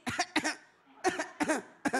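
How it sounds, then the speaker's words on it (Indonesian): A person coughs several times in quick, close bursts, loud and near, with short pauses between. "Batuk."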